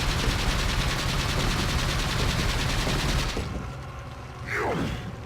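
Gunfire in Resident Evil 4 rattles out in a rapid, dense burst of loud shots for about three seconds, then drops away to quieter game sounds with a brief sweeping whoosh.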